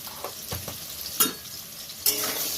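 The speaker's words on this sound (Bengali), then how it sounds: "এবার আলুটা ভালো করে ভেজে নেব" Potatoes frying in hot oil in a pan while cooking a coriander chicken dish: a continuous close sizzle with a few sharper crackles and stirring scrapes, no talk.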